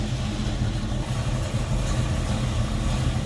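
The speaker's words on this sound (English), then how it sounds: "Roll down the window and listen to that V8." The V8 engine of a 1967 Chevrolet Camaro idles with a steady, loud, low burble and a continuous throbbing rumble, heard up close with no one talking.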